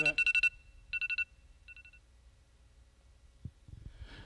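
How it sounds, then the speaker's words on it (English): A phone alarm sounds in short bursts of rapid beeping tones, loud at first and then fading, followed by faint rustling and a few soft knocks. "that's my phone alarming."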